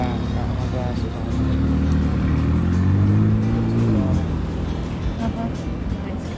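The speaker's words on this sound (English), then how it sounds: "what's that? Lamborghini?" A Lamborghini sports car drives past near Hoover Dam, its engine note rising to a loud peak around the middle and then fading away. People talk over it.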